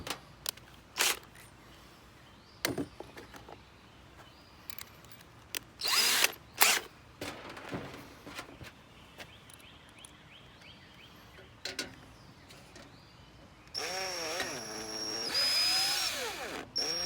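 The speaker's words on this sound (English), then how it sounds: "Let's go ahead and put in our sheet metal screws for that elevated floor to sit on." A power drill drives sheet metal screws into a one-gallon paint can, with several short loud whirring bursts separated by pauses and then a longer rising and falling drill run near the end, no speech.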